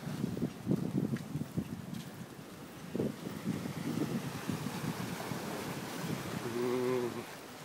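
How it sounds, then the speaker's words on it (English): Soft ocean waves wash and break on the sand at Shelly Beach, a faint, rolling surge heard from nearby, with a brief voice rising near the end. "Quick, before the next wave comes, Kelly."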